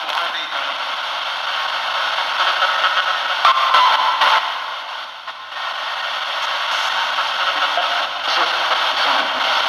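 A spirit box radio scans with its reverb effect on, static sweeping and hissing in choppy bursts with a washed, echoing quality, briefly breaking into faint tones.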